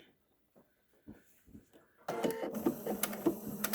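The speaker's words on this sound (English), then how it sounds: "line it up with the edge of the presser foot" A sewing machine stitching through multiple layers of fabric for a pleated face mask starts after quiet handling sounds, then runs steadily with a loud, close mechanical whir.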